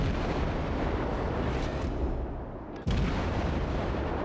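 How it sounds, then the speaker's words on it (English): 130mm HE shells fire in the World of Warships naval combat game, heard as a dense, continuous roar of booming gunfire and explosions with a brief dip before another heavy blast. "nothing a few 130mm HE shells can't handle"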